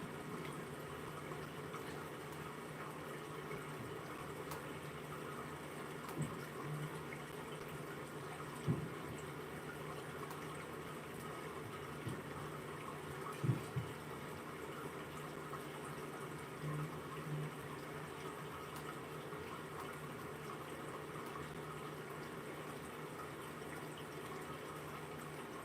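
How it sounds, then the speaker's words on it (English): A soft, continuous water sound plays as a study background, a steady gentle flowing hiss with a few faint soft knocks, quiet and unchanging throughout. "I have a little water sound here that I like to use when I am studying"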